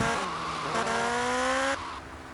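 Engine of a motorbike in GTA Vice City climbing in pitch through rising revs, with a shift partway through, loud and continuous with no voices.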